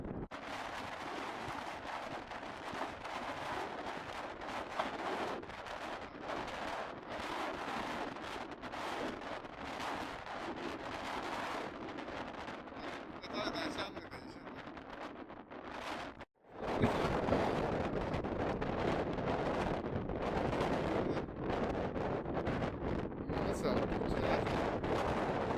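Strong gusts in Torres del Paine National Park, Chile, batter the microphone with heavy, rumbling buffeting. The roar lulls into near-silence briefly, then surges back louder. Faint voices sit beneath the wind noise.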